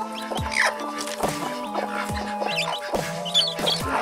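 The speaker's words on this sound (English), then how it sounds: "Oh. chicks down there. So look at these babies." Baby chicks peep in shrill, high chirps over a steady background of clucking and fowl sounds, busy and close throughout, with small bumps of movement.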